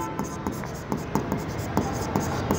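Pen writing on paper while working through an accounting problem, a steady pattern of short scratchy strokes at close range, with a voice speaking over it.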